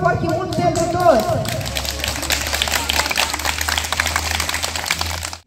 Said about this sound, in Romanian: să aplaudăm, vă rog, foarte mult pentru toți!